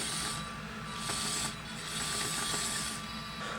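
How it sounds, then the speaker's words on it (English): An electric motor whirs on an RC Hitachi Zaxis 210 excavator model, making a faint, steady mechanical hum with soft rising and falling pulses over a few seconds. "motor is spinning there"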